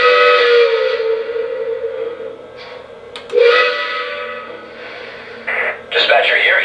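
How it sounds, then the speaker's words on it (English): Whistle from a Lionel 2-6-0 Mogul model train's onboard sound system, blown while the locomotive idles in neutral: a sustained airy steam-style whistle tone, then short bursts and a later renewed blast, with a radio-style dispatcher voice and chatter mixed in. "A short blast of the whistle when the train sits at idle or in neutral"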